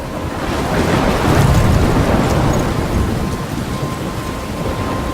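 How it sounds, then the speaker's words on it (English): Thunderstorm in the video game Life Is Strange: a steady, loud wash of heavy rain with low rumbling thunder swelling through the middle, continuous with no voices. "I'm trapped in a storm?"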